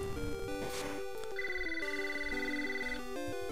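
In Pokemon Crystal, the in-game phone rings with repeated bright electronic chirps over the soft game music, a quiet chiptune ringtone pattern that keeps repeating.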